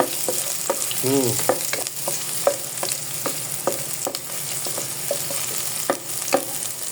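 Onion fries in a pan with a little oil, a continuous close sizzle punctuated by sharp utensil taps and scrapes against the pan at a regular stirring pace, with no voices.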